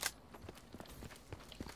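Footsteps in Call of Duty Black Ops 3, a series of soft, evenly spaced steps after one sharper opening thud, heard faintly over a quiet game background.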